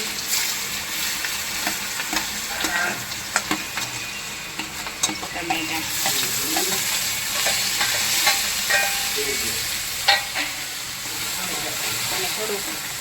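Chopped onion frying in hot oil just after a mustard seed and cumin tempering, a steady close sizzle with scraping stirs and scattered pops throughout, with brief voices in the background.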